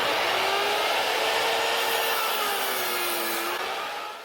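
A woodcutter saw cutting through wood pieces for a home closet-to-office build, a steady close whine that holds for about four seconds with a slight pitch dip midway before tapering off at the end.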